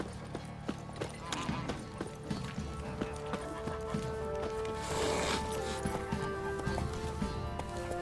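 A horse in The Witcher 3 clip-clops along at a steady run, its hooves thudding under a bed of game music and ambience, with one brief whinny partway through.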